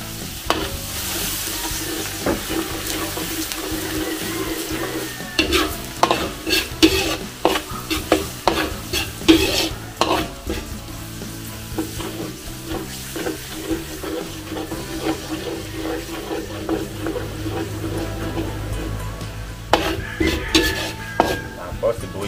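Garlic sautés in a pan with steady sizzling, while a utensil stirs and scrapes against the metal in repeated strokes, close and clear, with no talking.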